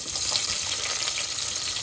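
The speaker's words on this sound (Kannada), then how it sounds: "ಉಳ್ಳಾಗಡ್ಡಿ ಹಾಕ್ಬೇಕು, ಫ್ರೈ ಮಾಡ್ಬೇಕು" Sliced onions hiss and sizzle in hot oil in a home kitchen pan, a loud, close, continuous frying crackle that holds steady without any voices.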